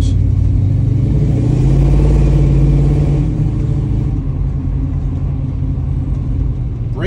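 A 1969 Chevrolet Camaro with a 350 transmission rumbles loudly as it drives, revving up early and then settling into a steady cruise with road noise, no talking.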